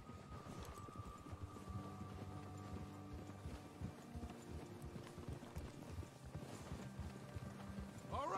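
Horse hooves clip-clopping at a steady riding pace in the video game Red Dead Redemption 2, a continuous rhythmic trot under wind noise and a low musical drone, moderately loud throughout.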